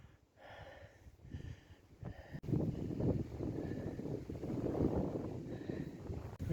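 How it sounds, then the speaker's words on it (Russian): Strong wind gusts rumble and buffet the microphone at the old Ozdich fortress towers in Ingushetia, rising after a quieter start and staying loud and turbulent to the end. "Жуткий ветер"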